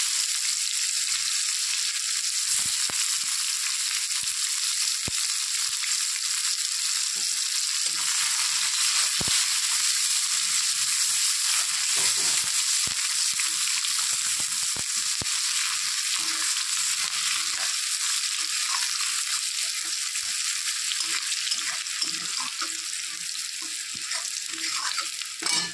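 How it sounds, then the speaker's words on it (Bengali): Onions and black cumin frying steadily in hot mustard oil, a loud, dense, continuous sizzle close up with scattered pops and crackles, no voices. "এখন আমি দিয়ে দিচ্ছি সর্ষের তেল কিছুটা পরিমাণে। তেল গরম হয়ে গেছে, তেলের মধ্যে দিয়ে দিচ্ছি কালো জিরে"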